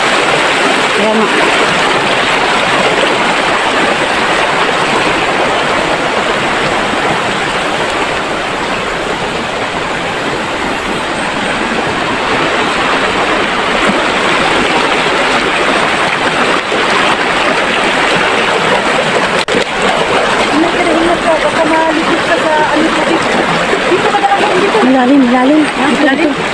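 People bathing in a river stream, with constant loud rushing and splashing water throughout and voices talking and calling over it.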